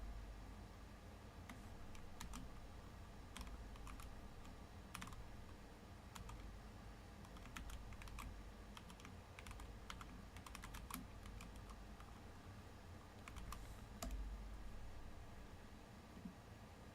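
Someone types on a computer keyboard in irregular bursts of quiet clicking keystrokes, with a faint steady hiss in the background and no talking.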